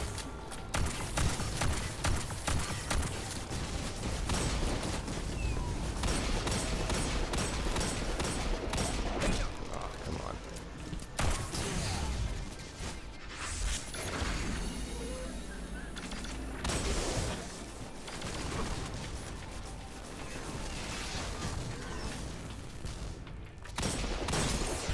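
Austringer hand cannon firing in the Destiny 2 video game during PvE combat, with dense, loud bursts of gunfire and impact sounds throughout, layered with game effects and a quieter stretch in the middle.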